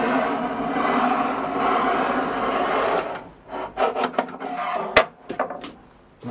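A radius sanding block jig drags across a wood surface, making a continuous close rasping rub for about three seconds, followed by a string of shorter, uneven scrapes and a sharp knock.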